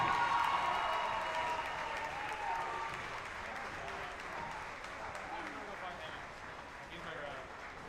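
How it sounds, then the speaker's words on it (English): Crowd applause for women's basketball all-conference honorees at a Dakota State gym, steady and fairly dense, fading slightly over the span, with faint voices mixed underneath. "Please give a round of applause to Bria Wasman and Lily Mackley"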